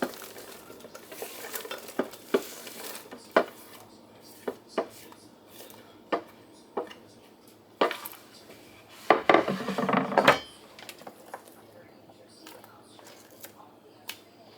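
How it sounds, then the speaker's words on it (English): Three pounds of chopped onions tumble from a container into a crock pot, heard as a series of scattered knocks and scrapes followed by a longer rustling pour near the end; a voice speaks at moments. "there's my 3 pounds of chopped onions. I'm just going to dump those into my crock pot"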